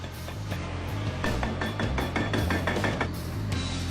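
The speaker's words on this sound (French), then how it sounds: "Attaquer les pieds au marteau hydraulique." Rapid metallic pounding of a hydraulic hammer against the concrete legs of a prison watchtower during demolition, repeated strikes over a steady low mechanical rumble, fairly close.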